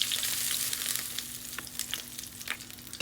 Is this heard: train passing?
no